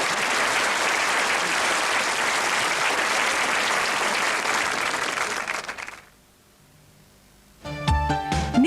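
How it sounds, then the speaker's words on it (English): Loud, sustained studio-audience applause on a live Irish television talk show cuts off sharply into near silence, and then a burst of music begins. "Give it a round of applause"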